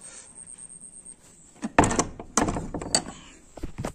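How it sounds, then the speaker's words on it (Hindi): A door being shut indoors at night: a couple of solid thunks and rattling clatter close by, then quieter knocks and shuffling, with no talk. "तो वो इस वाला दरवाजा को भी बंद कर देते हैं।"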